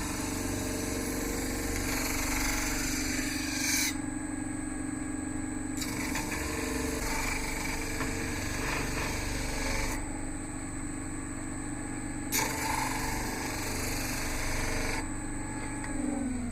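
Belt grinder smoothing out 60-grit scratches on a stag-handled bowie knife blade during rough grinding, a steady continuous abrasive whine with motor hum running throughout, the grinding tone shifting as the blade is rocked against the belt, no talking.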